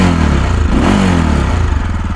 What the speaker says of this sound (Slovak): Zvuk veľmi krásny, bublavý, ale silný, mohutný, je cítiť, že to je vlastne veľká kubatúra, že to je 600 kubíkov